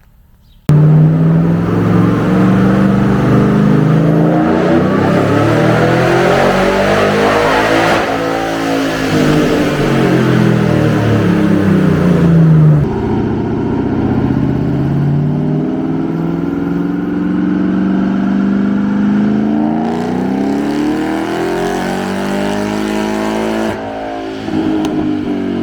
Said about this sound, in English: It's really nice sound, nice supercharger whine, but nothing too much.